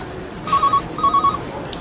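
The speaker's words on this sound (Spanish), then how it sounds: "¡Teléfono!" A telephone rings in two short trilling bursts, moderately loud, over a quiet room tone in a Spanish family drama.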